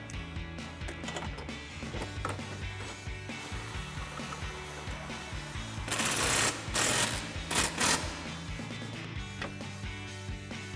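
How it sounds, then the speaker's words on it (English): An 18mm swivel socket on a ratchet tightening a suspension bolt on a Jeep Gladiator JT during a SkyJacker lift kit install, with quick clicking ratchet strokes and metallic clatter amid a busy workshop background. "Then we can grab an 18mm swivel socket,"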